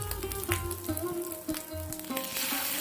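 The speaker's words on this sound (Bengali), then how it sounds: "সর্ষের তেল গরম হলে আস্তে আস্তে এক এক করে বড়াগুলো দিয়ে দিলাম" Fish roe fritters dropped one by one into hot mustard oil in a pan, giving a steady crackling sizzle with a few sharper pops and spatters as each piece goes in.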